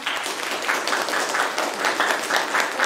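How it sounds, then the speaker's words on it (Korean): Loud, sustained applause from a crowd at an esports award ceremony, many hands clapping steadily throughout without a break. "마지막으로 박수 한 번 부탁드릴게요."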